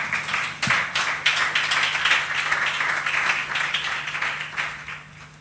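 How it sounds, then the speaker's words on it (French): A church congregation claps to acclaim the Lord, with steady rhythmic hand claps and some scattered cheering that carry on throughout, fading slightly toward the end under a low steady hum. "on va vous encourager en acclamant le Seigneur"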